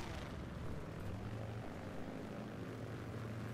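A propeller airplane engine drones steadily in Battlefield 1943, a continuous close hum with a rough buzzing texture and no breaks.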